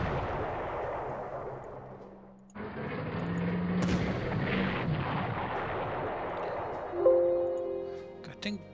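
Artillery fire rumbles in the wartime strategy game Panzer Corps, booming blasts rolling and decaying into a dense low roar, with a sharp new burst partway through and brief tonal interface sounds near the end.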